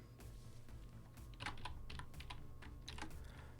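Computer keyboard typing while entering Python code for a while loop, a steady run of close key clicks with a few louder strokes, heard alone without speech.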